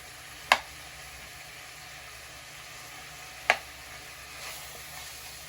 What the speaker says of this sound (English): We're gonna let that saute a little bit.